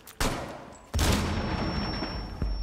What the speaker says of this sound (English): Ren Wavy is trying to shoot us.